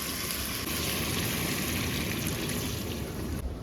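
Water is poured into a pan of fish curry on a home stove, giving a steady, close pouring and bubbling rush that runs unbroken throughout.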